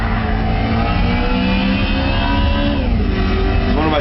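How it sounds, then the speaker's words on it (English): A BMW M3 E92 V8 in the racing game Gran Turismo 5 Prologue drones steadily at sustained revs, loud and continuous throughout, with a brief pitch shift near the end. "Listen to that V8."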